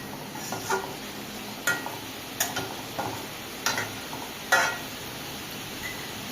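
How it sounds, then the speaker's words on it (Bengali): Jackfruit frying slowly on low heat in a covered pan, a faint soft sizzle broken by several sharp clinks and stirring knocks spaced a second or so apart. "আমি স্লো আঁচে ভেজে নেব।"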